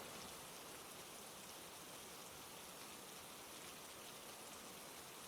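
Steady, even rainfall with a dense broadband hiss of drops pattering on surfaces, constant and fairly distant, with no voices.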